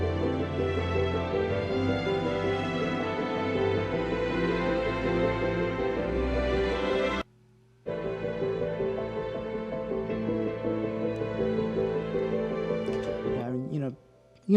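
Full orchestral film-score mix: a looping bass pattern with strings sustaining underneath, dense and steady, breaking off briefly to near silence midway before resuming at the same level, with no voices.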